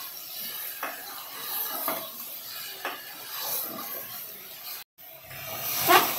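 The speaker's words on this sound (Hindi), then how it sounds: "चिकन ऐड करने के बाद अब हम इसे अच्छी तरह से एक बार मिक्स कर लेंगे।" Raw chicken is stirred in a cooking pot for a Maharashtrian chicken thali, with soft wet scraping strokes roughly once a second over a low sizzle. A louder clatter comes near the end.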